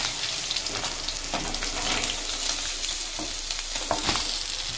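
A large fangur fish frying in oil in a pan gives a loud, continuous crackling sizzle with scattered pops, steady from start to finish with no talking.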